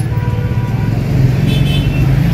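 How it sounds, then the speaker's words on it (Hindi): Heavy weekend road traffic in the hill town of Nainital rumbles as a steady, loud engine drone, with faint car horns tooting briefly in the background. "आज वीकेंड है इसलिए कुछ ज्यादा ही ट्रैफिक है।"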